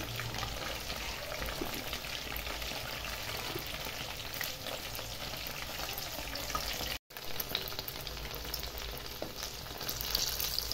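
Chicken saute deep frying in hot oil, Bengali style, a steady close sizzle and crackle that holds level for the whole stretch with one brief dropout.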